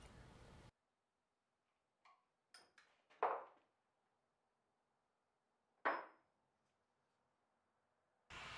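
A metal punch struck with a hammer to drive a rivet out of an old knife handle: a few sharp separate knocks, the two loudest about three seconds apart, close and alone in a quiet room.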